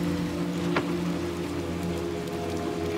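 Rain patters on surfaces in a rooftop asylum setting of the video game Little Nightmares 2, a steady wet hiss over a low droning hum, with one faint brief sweep near the start and no talking.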